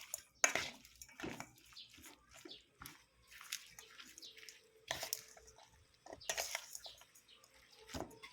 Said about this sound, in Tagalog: Halu-haluin natin hanggang mag-combine ang lasa.